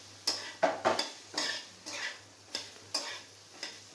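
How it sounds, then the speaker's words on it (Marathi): Diced potato being sautéed in a pan for Marathi bread cutlets, with a spatula scraping and clattering against the metal about eight times in a steady rhythm, close and fairly loud, over a low hum and a light sizzle. "असं परतून घ्यायचं आहे थोड्या वेळ"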